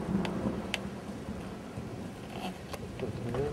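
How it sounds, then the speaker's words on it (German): Thunderstorm moving away to the south, with a low rumble of thunder and steady pattering rain, fairly faint and continuous with no voices. "das Gewitter zieht Richtung Süden. Es trifft uns leider nicht ganz."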